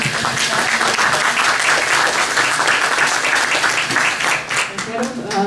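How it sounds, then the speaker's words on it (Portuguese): Audience applause at a labour law event, dense sustained clapping filling the room, loud and steady with some voices mixed in. "Quero pedir uma salva de palmas primeiro, né?"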